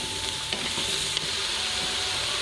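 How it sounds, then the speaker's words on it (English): Vegetables for vegan asparagus soup sizzle steadily while being stirred in an Instant Pot, a continuous close frying hiss with no voices. "Stir."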